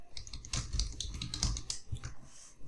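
Rapid keystrokes on a computer keyboard as an administrator password is entered, a close, steady patter of clicks with brief pauses between bursts.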